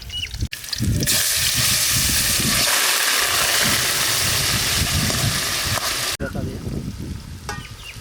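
Angara chicken hits a hot pan with a loud, sudden sizzle that holds as a dense, steady hiss for several seconds, then cuts off into quieter frying and stirring.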